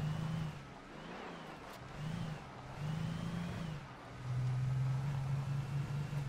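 Car engine driving in the video game Alan Wake, a steady low hum that rises and falls with throttle, swelling into a sustained droning tone near the end, alone with no talk.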